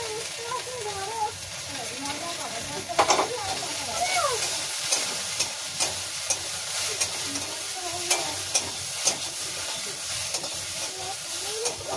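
Okra frying in a pan, a steady close sizzle and hiss with scraping stir strokes and occasional sharp clinks of a utensil against the pan, with a voice talking faintly in the background.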